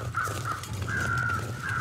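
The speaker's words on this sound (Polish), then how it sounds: "Słyszę kruki." Ravens cawing in the survival video game The Long Dark: three drawn-out, hoarse caws over a low ambient wind rumble. The calls sound moderately distant, and no one speaks.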